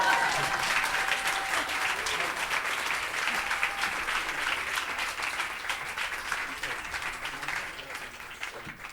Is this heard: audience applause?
yes